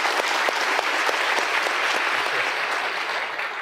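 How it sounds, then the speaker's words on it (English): Loud burst of applause from a TV studio audience, many hands clapping in a dense, lively patter that stays strong before easing slightly at the end. "big round of applause."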